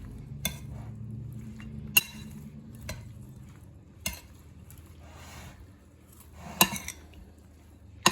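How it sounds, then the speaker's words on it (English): Pasta salad with Italian dressing is tossed in a bowl, giving scattered clinks and knocks of utensil against dish with softer stirring between them, close and moderately loud, with no talking. "I'm just going to go ahead and mix this up."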